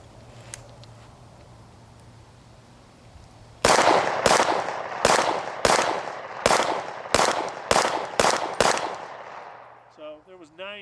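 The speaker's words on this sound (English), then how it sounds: "So there was 9 shots out of that magazine." A 9mm Wilson Combat Tactical Carry Compact pistol fires nine sharp, loud shots in quick, slightly irregular succession after a quiet lead-in, each report ringing briefly, followed by a voice.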